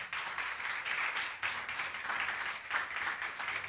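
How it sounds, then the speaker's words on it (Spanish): Church congregation clapping in pulsing waves of applause, moderately distant, with no talk over it. "Dale un aplauso al Señor por eso."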